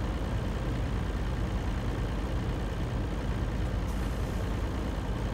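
A truck engine strains under load in the Farming Simulator game during winter logging work, giving a steady, dense drone that holds at an even level without a break.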